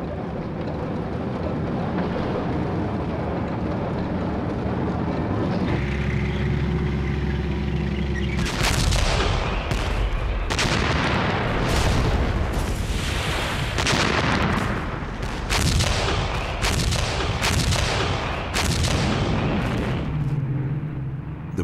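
Heavy wartime gunfire and artillery from German forces at Arnhem during World War II, with a sustained roar giving way to repeated loud blasts and bursts that continue through most of the stretch, without speech.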